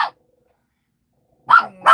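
Two or three sharp dog barks, one at the start and two close together near the end, with silence between.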